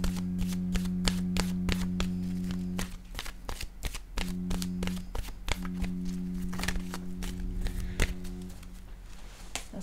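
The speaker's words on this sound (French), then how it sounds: "Je vais maintenant piger une carte de mon oracle de l'âme intuitive" A deck of oracle cards being shuffled by hand, a steady run of crisp riffling slaps and flutters with brief pauses, close and fairly loud over a faint steady hum, with no talking.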